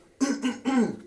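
A single person coughs twice into the inner elbow, close and muffled, two quick throaty bursts.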